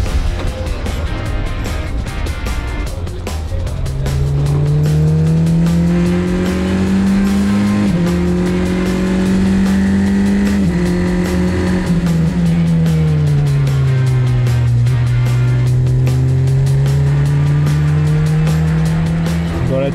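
Race cars lap a hot track during a final practice session before the GP Explorer, with a continuous loud engine drone rising and falling in pitch as the cars accelerate and brake, and voices talking faintly underneath.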